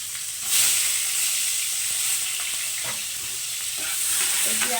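Three medium onions, sliced long, sizzle steadily in hot oil in a pan, with occasional scrapes of a stirring utensil over the constant close frying hiss and no talking.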